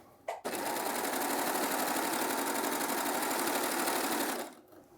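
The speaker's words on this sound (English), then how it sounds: "Do a couple of stitches over the top, bring my needles up and remove my work." A Baby Lock Acclaim sewing machine stitches fabric in a single loud, continuous burst of about four seconds. The dense, rapid mechanical whir stops abruptly at the end, and no one speaks.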